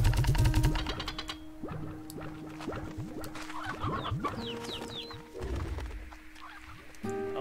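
Chickens cluck repeatedly in the farm video game Slime Rancher 2, with irregular overlapping calls over a steady synthetic game background and chiming effects, fairly close and moderately loud.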